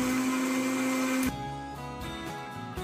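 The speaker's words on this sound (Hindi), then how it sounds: "अब इसे ब्लेंड कर लेंगे और स्मूथ पेस्ट तैयार कर लेंगे।" A blender whirs steadily, mixing mango, milk, sugar and cream into a smooth shake, the motor tone dropping partway through as the load shifts, loud and close with no voices.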